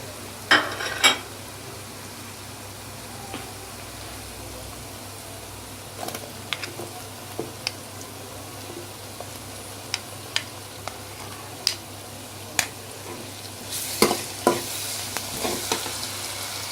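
Chopped tomatoes with garlic and ginger fry in a pan for aloo palak, under a continuous low sizzle broken by sharp scattered clinks and scrapes of stirring, more frequent toward the end.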